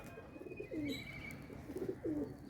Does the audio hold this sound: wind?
no